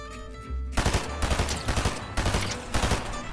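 Rapid bursts of gunfire from the Fortnite video game, loud and repeated in several volleys with short gaps, heard alone without talk.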